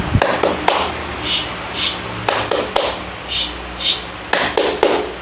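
Schoolchildren do a rhythmic 'tepuk diam' clapping routine in a classroom, a few sharp clustered claps and taps in a short pattern, with quiet gaps between groups of claps.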